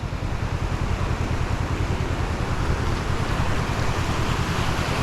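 Floodwater about two feet deep rushes past in a steady, loud, broadband roar with a constant churning texture, close to the microphone and with no voices over it, during a destructive 1000-year flood.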